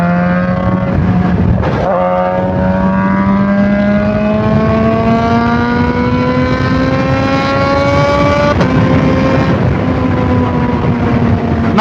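A Kawasaki ZH2 or BMW S1000RR motorcycle accelerates hard, its loud, close engine note climbing steadily in pitch over several seconds, with brief breaks that sound like gear changes.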